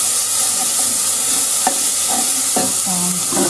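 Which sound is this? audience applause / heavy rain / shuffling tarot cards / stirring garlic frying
stirring garlic frying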